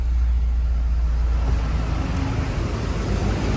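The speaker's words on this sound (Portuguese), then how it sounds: "Carro ligado." A Volkswagen Gol G6 engine with a slight misfire runs at idle close by, giving a steady low rumble that is loud and alone with no talk.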